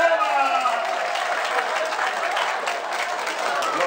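Warm applause for Szymon at a Christmas wafer gathering in Chicago, a steady crowd clapping evenly throughout at moderate volume with voices faintly mixed in.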